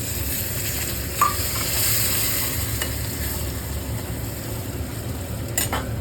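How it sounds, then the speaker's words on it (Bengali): Green peas hit a hot pan of spiced oil for egg curry, giving a steady sizzle and frying hiss with a spoon stirring and clinking against the pan. "তারপরে দিলাম এর মধ্যে কড়াইশুঁটিগুলো"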